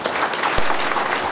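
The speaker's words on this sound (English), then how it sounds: "I want to hear a clap." Brief applause from an audience at a city council meeting, a short burst of scattered hand claps with a light crowd murmur behind it.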